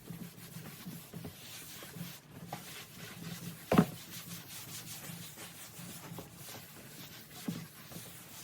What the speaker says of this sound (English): I am going to just get a damp cloth. I'm going to wipe this all off just to make sure there's no dust, debris on it anywhere.